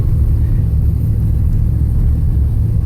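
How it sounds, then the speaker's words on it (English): A car drives up a dirt BLM road, its engine giving a steady, close, low rumble with constant road noise throughout and no voices. "Just driving up this BLM road, going up to help a friend who's having trouble"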